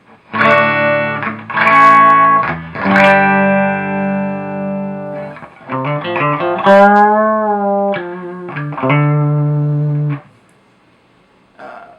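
Clean electric guitar tones through a Fender Bassman tube amp ring out in several chords and single notes, warm and undistorted, with sustained decays and a quiet pause near the end.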